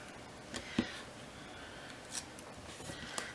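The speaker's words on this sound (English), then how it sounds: "we're just going to cut some foam tape here" Scissors cut through foam tape for a handmade autumn card, giving three quiet, crisp snips spaced out over a few seconds with no talking.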